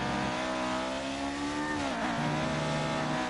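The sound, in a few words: classic Lotus Formula 1 car engine in F1 2018 video game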